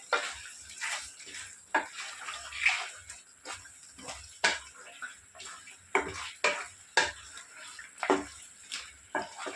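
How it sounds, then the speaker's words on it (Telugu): Chicken fries in oil with tamarind paste while being stirred, a continuous close sizzle broken by regular scraping strokes of the spoon against the pan, roughly one every second. "ఈ పేస్ట్ కూడా మంచిగా చికెన్లో కలిసిపోయేటట్టుగా కలిపేసుకోవాలి. పేస్ట్ కూడా ఫ్రై అవుతుంది కొంచెం."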